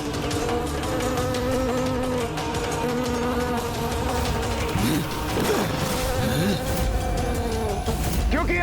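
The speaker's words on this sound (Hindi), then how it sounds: "ये भिनभिनाहट जैसे असंख्य कीट एक साथ ध्वनि उत्पन्न कर रहे हैं" Dense, steady buzzing of countless insects swarming together, a continuous droning hum with shifting whines that fills the whole stretch at even loudness, with no voices.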